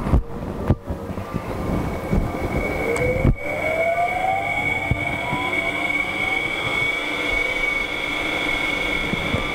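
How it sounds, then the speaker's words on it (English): Wood lathe spinning at about 800 RPM while a chisel turns a bowl from 2000-year-old wood, a steady close mechanical whir with tonal hum and a few sharp knocks early on, no talking. "I have the lathe running about 800 RPM."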